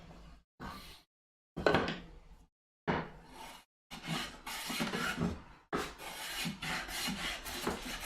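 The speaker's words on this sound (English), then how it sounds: "It looks like I'm going to have to actually be planing towards the middle on both sides at the end of it." A hand plane rasps along walnut being shaped for a shadow box, in long strokes with short pauses between them, close and fairly quiet.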